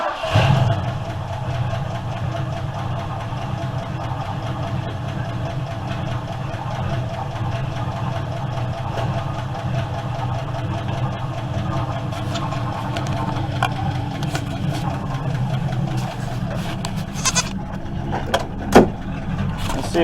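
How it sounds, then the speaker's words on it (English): A 1976 Ford LTD with failed power steering runs at a steady idle, a continuous low engine rumble throughout with a few brief clunks near the end. "let's start her up and see if we got anything."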